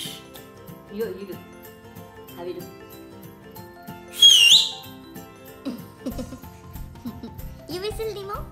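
An adult whistles a short, bright rising note to a baby, heard once mid-clip and loud against a quiet room, with speech and a child's babbling before and after.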